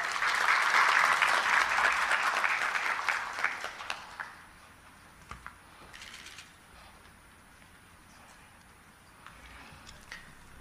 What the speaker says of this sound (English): Could you help me welcome him with a round of applause?